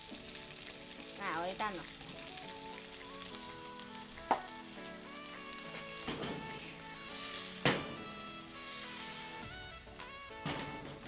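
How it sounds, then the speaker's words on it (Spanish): Tomato, onion and garlic sauté in a pan for salsa with a soft continuous sizzle, broken by a few sharp clinks of a utensil against the pan and brief speech, while a tonal hum runs underneath. "Y lo vamos a dejar sofreír por un ratito."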